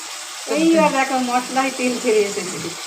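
Chilli and coriander powder sizzle steadily with a little water in a pan while being sautéed for a koi fish curry, a continuous frying hiss running beneath a voice talking throughout.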